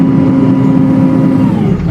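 A loud engine runs in a church car park, a steady close rumbling drone with a constant hum that eases slightly near the end.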